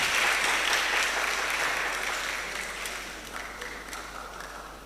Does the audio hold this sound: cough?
no